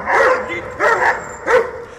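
Several stray street dogs barking in three loud, close bursts spaced about half a second apart, with slight yips between them, in an outdoor setting where they attacked a mother cat and kittens.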